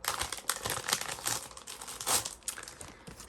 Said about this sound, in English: I'm gonna take it out of the plastic.